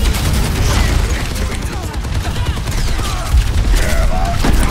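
Steady, unbroken gunfire from a player's weapon in a hectic team shooter match, a dense continuous rattle running through the whole stretch with occasional heavier booms, loud and close with faint game voices mixed underneath.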